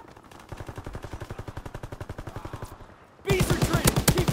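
Rapid bursts of automatic gunfire in a World War II shooter game, a steady rattling stream that pauses briefly, then returns louder and closer.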